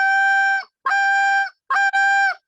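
A short reed goose call blown in the push moan style gives three drawn-out, clear honking moans, close and alone, with brief gaps between them.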